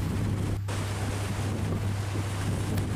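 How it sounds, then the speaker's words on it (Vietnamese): A net fishing boat pitches through heavy waves toward the Lagi harbor mouth in Binh Thuan, with steady engine drone, rushing water and wind buffeting the microphone throughout, close and continuous. "chiếc ghe lặn cũng đang nhảy sóng về cửa cảng đó nha anh em"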